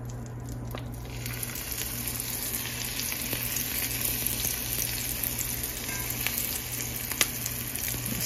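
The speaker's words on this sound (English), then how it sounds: "you want to put the skin side down first" Salmon fillets searing skin side down in a hot pan, a steady, even sizzle and crackle that stays constant, with occasional small pops and no voices.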